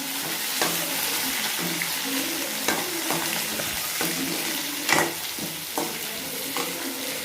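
Garlic and curry leaves sauté in a pan for chutney, making a steady, moderate sizzle with periodic stirring scrapes and a louder knock near the middle.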